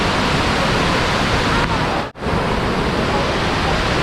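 A strong river current roars at the Balanac River dam in Magdalena, Laguna, a loud continuous wash of rushing water that cuts out briefly for an instant before resuming.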